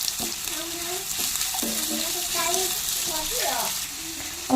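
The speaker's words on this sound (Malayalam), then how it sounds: "രണ്ട് മീഡിയം സൈസിലുള്ള സവോളയായിട്ട് ഞാൻ സ്ലൈസ് ചെയ്തെടുത്തേക്കാം ഇനി ഇതൊന്ന് വഴറ്റിയെടുക്കാം" Two medium sliced onions sauté in a pan, giving a steady hiss and sizzle with faint stirring, close by, while a voice talks over it.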